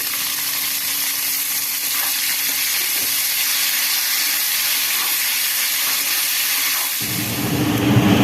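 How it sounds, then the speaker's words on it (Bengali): Onions hit leftover fish-frying oil in a pan with a loud, steady hiss and sizzle, close up, swelling into a rougher burst of spitting near the end. "এই মাছের তেলটাতে পেঁয়াজগুলো দিয়ে দিলাম।"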